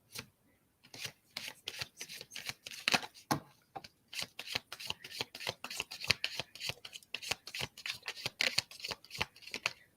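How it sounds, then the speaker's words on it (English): A deck of playing cards is riffled and shuffled close up in a quiet room, a rapid run of crisp flicking bursts with brief pauses between shuffles. "I'm going to finish shuffling first"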